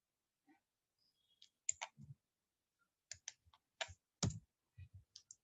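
Keys tapped on a computer keyboard while entering a command, a quiet irregular run of close clicks with short pauses between bursts.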